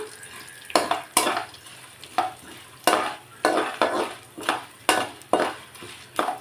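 A spoon stirs roasted peanuts and rice in a pan for Tamil-style mango rice, with close, repeated scraping clatters against the metal at an uneven rhythm over a faint frying sizzle.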